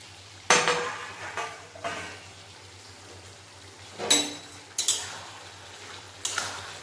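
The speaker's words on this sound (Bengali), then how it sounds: "এরপর আমি ঢাকাটা খুলে নেব।" A lid lifted off a cooking pot of simmering bottle gourd with poppy seed, giving a few sharp metallic clinks and scrapes spaced across the clip over a quiet kitchen hum.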